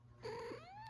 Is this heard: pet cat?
yes